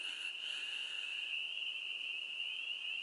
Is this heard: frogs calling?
yes